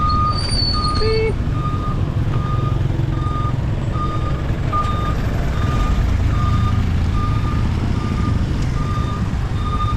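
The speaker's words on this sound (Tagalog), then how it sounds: "Beep." A truck's reversing alarm beeps steadily at an even pace, about a dozen evenly spaced tones over a loud engine idle, with a brief hiss early on.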